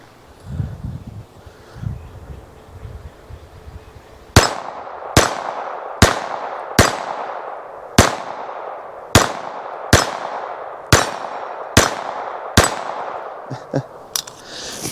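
Smith & Wesson Victory pistol fired at a target about 10 to 12 yards away on a range: eleven sharp, loud shots in a steady, evenly spaced rhythm, each ringing briefly, following a few seconds of quiet rustling and handling.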